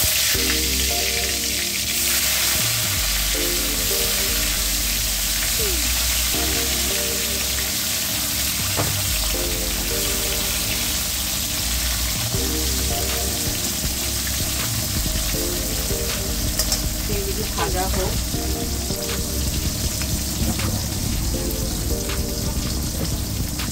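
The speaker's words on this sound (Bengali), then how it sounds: "আমি প্রথমে কাঁকরোলগুলোকে একটু ভেজে নেবো" Salt-and-turmeric-coated teasel gourd fries in hot mustard oil, producing a loud, dense, rain-like sizzle that carries on steadily beneath background music.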